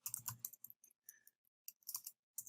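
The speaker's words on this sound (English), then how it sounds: "so let's go ahead and type that in" A computer keyboard is typed on in short bursts, crisp close key clicks clustered in quick runs separated by brief pauses, with no voices.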